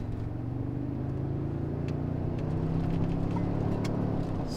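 Inside a V6 Toyota Tundra fitted with a Magnaflow exhaust, a low steady engine drone rises gently under light throttle, subdued and even, with no one talking.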